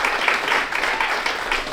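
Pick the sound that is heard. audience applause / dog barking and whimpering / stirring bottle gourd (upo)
audience applause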